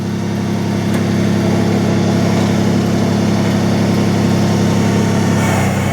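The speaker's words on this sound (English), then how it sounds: "You can go ahead and shut the tractor off." An LS MT125 compact tractor engine idles steadily and close by, a continuous low mechanical drone with a constant hum that holds evenly for the whole stretch, with no voices over it.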